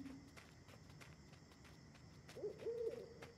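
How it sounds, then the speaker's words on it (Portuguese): An owl hoots in the Endling: Extinction is Forever video game, a short, clear call near the end over a steady bed of crickets and insects, with no talking. "Coruja."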